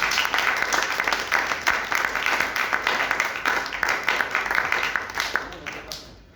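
A congregation applauds during a Sunday church worship service with steady, rhythmic clapping that holds strong, then trails off at the end, with voices mixed in.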